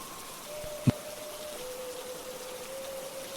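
Steady hiss of rain falling, with a single sharp thump near the start and a faint thin tone running underneath.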